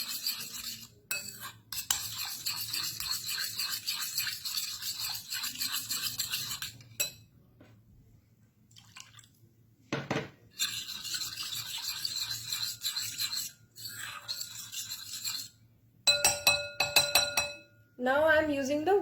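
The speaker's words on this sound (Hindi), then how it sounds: "Now I am using the whisk." Whisking milk and curd together in a bowl for an eggless Dundee cake batter, a quick rhythmic scraping and clinking of the whisk against the bowl in bursts, with short pauses between them.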